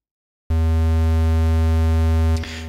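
A synth tone built from stacked sine waves starts abruptly and holds as a steady, unbroken drone, then shifts briefly near the end.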